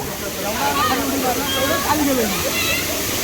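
Rushing, sloshing water of Chander falls in Malvan, Konkan, a dense steady roar close by, with nearby voices talking on top of it.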